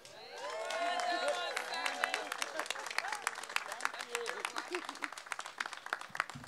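Audience applause greets Mayor Muriel Bowser at a ribbon cutting for the Anacostia Safe Commercial Corridor Hub, with dense sustained clapping and some cheers that swell early and then settle into steady, slightly thinning claps.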